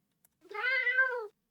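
A Minecraft cat's death sound plays once: a single drawn-out, tonal meow-like cry of about a second, clear and alone with no talk.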